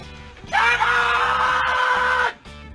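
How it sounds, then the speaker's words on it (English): A pizza delivery man at a front door lets out one long, loud sustained scream lasting nearly two seconds, picked up by a doorbell camera over a low background hum. "they left a note for the delivery driver telling him to scream to let him know he's there"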